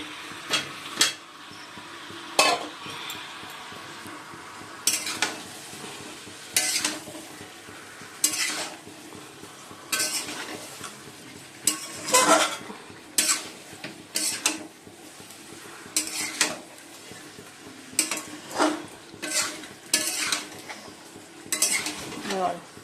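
Potato pieces go into a pan of frying chicken kosha, followed by a steady sizzle and repeated metal spoon scrapes and clanks against the pan, close up, with faint background voices.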